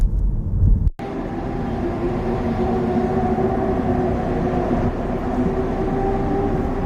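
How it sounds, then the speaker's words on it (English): After a sharp click, a continuous roar of race car engines drones on steadily at a distance in Indianapolis, with a faint whining tone running through it. "I can actually hear some of the race cars right now"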